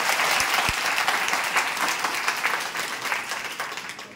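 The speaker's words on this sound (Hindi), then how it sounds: "सर के लिए तालियां बजाइए।" An audience applauds at a gathering, a dense, steady wash of many hands clapping close by that fades slightly toward the end.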